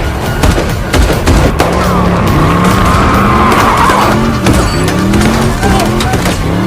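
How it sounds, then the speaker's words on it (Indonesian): Doorless car in a John Wick: Chapter 4 action scene skids and squeals across pavement, loud and continuous, with engine roar and bursts of gunfire mixed in. "Sambil mengendarai mobil tanpa pintu secara ugal-ugalan, John Wick pun mampu membasmi semua musuh"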